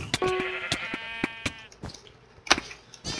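A sheep in the video game Sheep Quest bleats near and clearly at the start. Sharp percussive knocks and clicks from the game are scattered throughout.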